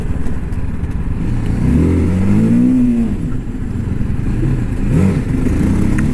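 A 2024 TVS Apache RTR 310 motorcycle on Michelin tyres rides and then brakes hard, its engine note rising and falling in pitch over a loud close road rumble with wind noise, no talking.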